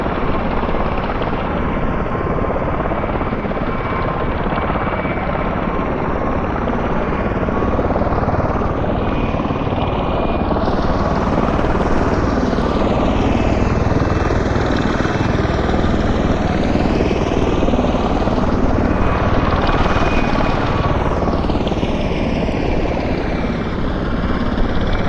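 An aircraft engine in Flight Simulator drones steadily over Amarillo, Texas, with a continuous loud rotor-like hum and a slow shifting whine, no talking.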